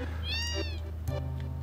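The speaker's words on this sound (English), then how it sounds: "And there's a little kitty cat." In the Final Fantasy VII video game, at the Great Glacier, a small cat gives one clear rising-and-falling meow, near and fairly loud, over a low steady background hum from the game.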